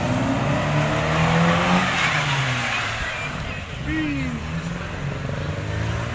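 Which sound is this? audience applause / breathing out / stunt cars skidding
stunt cars skidding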